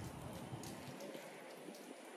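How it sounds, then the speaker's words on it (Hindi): Rain that starts and stops falls as a faint, steady hiss of drops on surfaces, quiet and unbroken throughout, with no one speaking. "एक घंटा बारिश हो रही है फिर बारिश बंद हो जा रही है"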